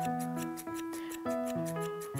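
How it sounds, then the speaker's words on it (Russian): Thinning scissors trim a dog's coat during grooming, giving a close series of crisp, metallic snips and small ticks in a steady rhythm with no talking. "А после этого филировочными ножницами."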